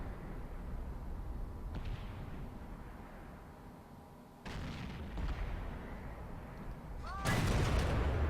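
A T-10 tank's main gun fires during a World of Tanks battle on the Karelia map, delivering sharp booming blasts over a steady low rumble of the engine and game ambience, with one heavy shot near the end.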